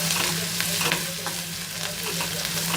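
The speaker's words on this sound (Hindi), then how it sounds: "हरी मिर्च 4 से 5 डालेंगे काट के।" Chopped green chillies frying in a hot pan while poha is being made, giving a loud, dense, continuous sizzle close by with faint stirring scrapes mixed in.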